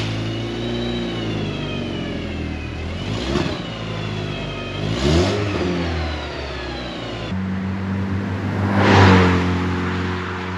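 A Mk4 2.0 wagon fitted with a Techtonics exhaust revs repeatedly, its engine note rising and falling in several loud, close sweeps over a steady idle.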